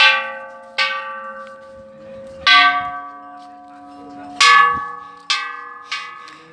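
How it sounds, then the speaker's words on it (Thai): A temple bell at Wat Phra Chai in Saraburi is struck six times in an uneven rhythm, each loud metallic clang ringing out and fading into a long, bright tonal hum, close and without talk. "ผมก็จะตีลั่นระฆังให้ครบทุกวันนะครับ"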